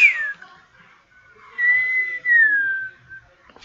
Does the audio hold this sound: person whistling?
yes